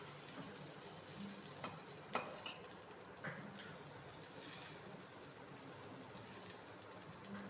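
Bottle gourd leaf fritters coated with poppy seed fry in oil in a pan, giving a faint, steady sizzle with a few soft clinks of a utensil turning them, heard close but quiet.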